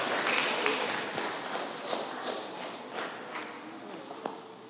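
Applause from an audience at a junior school graduation ceremony, dense and steady through the clip with a few sharper claps near the end, heard at moderate distance.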